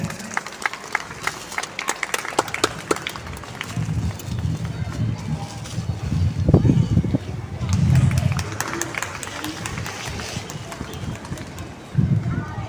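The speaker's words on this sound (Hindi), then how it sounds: "जोरदार तालियों से स्वागत करें।" Applause welcoming a guest at an Independence Day celebration in a residential complex: scattered clapping that swells into louder crowd noise and chatter, with outdoor background sounds throughout.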